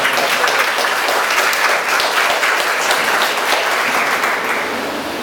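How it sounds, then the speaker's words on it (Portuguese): Sustained, dense applause from a church congregation during a worship service, steady and full for about five seconds and tapering slightly at the end, with no distinct voices over it. "Você pode aplaudir o Senhor?"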